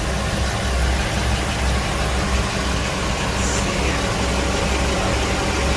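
A steady, loud rumble of twin Mercruiser engines on a Sea Ray Amberjack 290 boat drones on without a break, a constant low idle filling the whole stretch.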